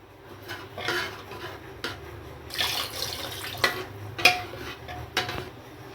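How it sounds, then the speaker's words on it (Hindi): Water pours steadily into a metal pot of thick South Indian sambar, with a few sharp clinks of utensils against the pan nearby. "अब थोड़ा पानी डाल दूंगी इसके अंदर"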